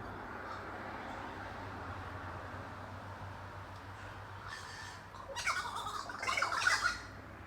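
Harsh bird squawks burst out near the end after a stretch of steady low background rumble, several calls overlapping loudly, in Jamaica.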